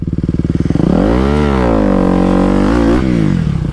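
A motorcycle engine revs up as a learner rider gives it gas, a loud, close, chugging idle swelling into a steady high rev, then easing back down near the end.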